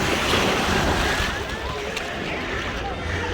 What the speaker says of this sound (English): show you this wonderful and beautiful beach